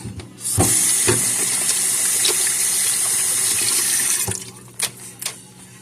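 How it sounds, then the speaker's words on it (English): Hands being washed under a running kitchen tap while cooking grilled prawns, water streaming steadily with a bright hiss, a few splashes and knocks, then the flow cutting off and leaving short clatters. "Let me wash my hands."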